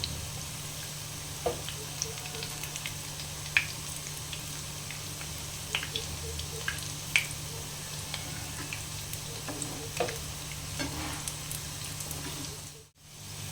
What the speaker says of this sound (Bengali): ঠিক মতোভাবে হালকা আছে ফ্রাই করতে হবে